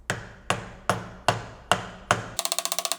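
A 30mm socket is hammered to drive a part home on a V12 BMW E32 750iL: six heavy, evenly spaced metallic blows, close and loud, followed by a quick burst of lighter rapid taps.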